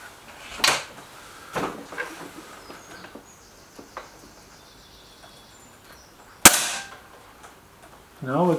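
Air rifle shots from a Webley Xocet or Stoeger RX20 in a shooting comparison, a few sharp isolated cracks spaced seconds apart with one loud report, faint background noise between them.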